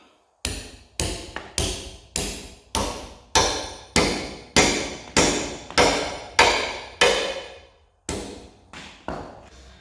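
Sharp, heavy strikes ring out while anchor bolts are set for a Daytona 10,000 lb two-post car lift. About a dozen loud metallic blows land at a steady, even rhythm, each one decaying before the next, with no talking.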